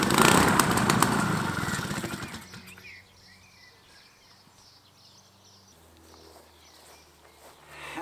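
An old engine roars loudly with a rough, pulsing note for about two and a half seconds, then falls away to a faint low hum.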